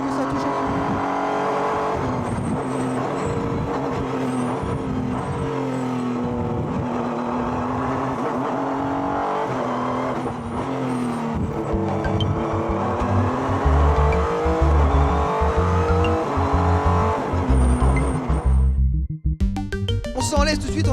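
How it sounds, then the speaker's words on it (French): Renault Sport Trophy race car driving and braking on the Nürburgring circuit, a loud continuous engine drone with shifting pitch and revs, someone talking over it throughout, the noise cutting off abruptly near the end. "Alors on va freiner un petit peu plus doucement que tout à l'heure, parce que ça touche."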